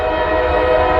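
A northbound Norfolk Southern freight train rolls past with its horn blaring: a loud, steady, close horn tone sustained over a continuous rumble for the whole second.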